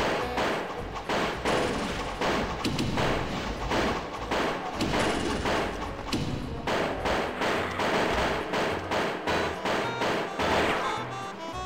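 Dense gunfire in Pirate Doom, a Doom 2 mod, with loud, rapid, overlapping shots and impacts hammering almost without pause from start to end.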